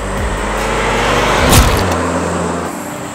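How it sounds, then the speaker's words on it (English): A car engine runs with a steady low rumble that swells briefly in the middle, much like a rev or a pass, then settles back to an even drone. No voices are heard. "I love this car so much."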